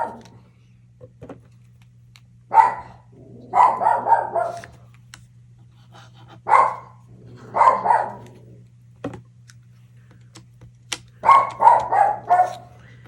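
Dogs bark indoors in several short bursts of two to four sharp barks, spaced a few seconds apart, fairly close and loud against a quiet background with a steady low hum.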